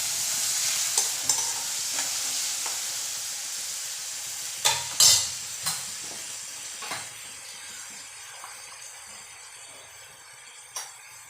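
Green chilies with tomato and coriander being stirred into onion in a frying pan for kanda poha, making a soft continuous sizzle broken by several sharp metallic scrapes and clinks of the spatula, close and without talk.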